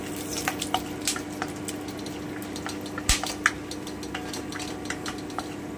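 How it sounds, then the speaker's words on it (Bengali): Whole spices and black pepper stirred in hot oil for a spicy prawn dish, with light sizzling and scattered crackles and spoon scrapes, one sharp tap near the middle, close and moderately quiet with no talk. "আমি সবার আগে গরম মশলাগুলো দিয়ে দিচ্ছি, গোলমরিচটাও দিয়ে দিলাম। আমি একটু নেড়ে নিচ্ছি।"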